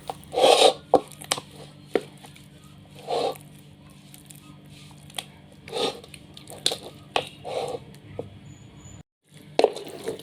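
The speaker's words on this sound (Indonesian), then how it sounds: "Di sini aku pakai centong kayu ya, karena memang harus benar-benar tercampur antara telur tadi dengan adonan bubur pempek." Eggs being stirred into pempek dough with a wooden ladle: soft, irregular thuds and scraping rubs of the ladle against the bowl, close and fairly quiet, in uneven bursts with brief pauses.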